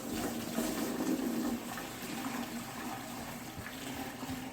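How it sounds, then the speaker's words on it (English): Muddy water pours out of a Frankford Arsenal rotary tumbler drum, a steady, loud rush of splashing liquid running for several seconds. "as you can see how muddy this water is, the muckiness, it bounces all over the place. It really splashes."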